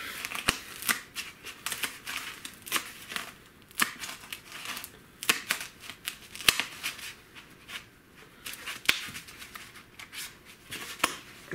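Repeated sharp snips and squeaky crunching of pruning shears cutting through a soft foam pool noodle, irregular and close, with rustling between cuts.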